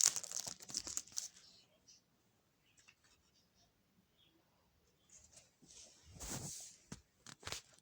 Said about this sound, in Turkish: Diğer paketimizi açalım.